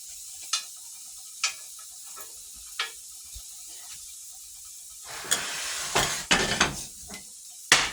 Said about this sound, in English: Habanero roasting.